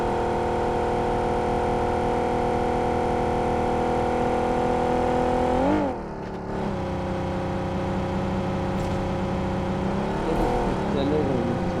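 Vehicle engine in a battle royale game hums steadily close by, its pitch dipping and swelling as it shifts and revs, with a brief drop midway, while players talk over it.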